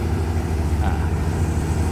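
The Cummins 6BTA 5.9 diesel of a crawler excavator runs close by in a deep, steady, throbbing rumble with strong low bass, continuous and without talk.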